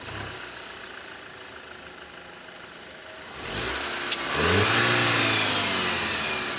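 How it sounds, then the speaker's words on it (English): A 2024 Maserati Grecale GT SUV engine idles low, then roars up as the throttle is punched, revs sweeping upward into a loud, sustained growl close by. "the sound when you punch the throttle"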